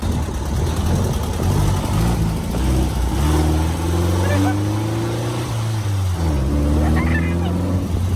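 A Bugatti replica car's engine revs and pulls while being driven, its low throbbing note rising and falling through several gear changes, close and loud, with a voice exclaiming briefly.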